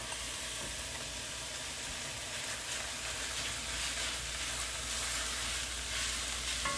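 Pre-cooked couscous sizzles in a pan with wilted spinach, a dense continuous frying hiss with faint stirring, close up and fairly quiet, with no voices.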